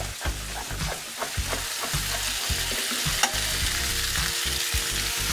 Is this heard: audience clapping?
no